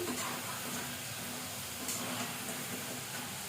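Potatoes fry in hot oil with a steady, even sizzling hiss that stays soft and constant throughout, with no talking over it.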